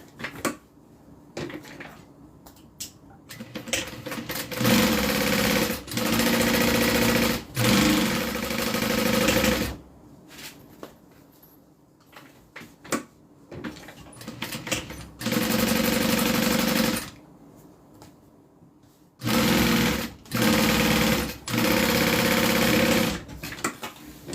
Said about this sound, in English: now I'm going to open it up and do a top stitch